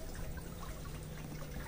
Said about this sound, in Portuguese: E a roda d'água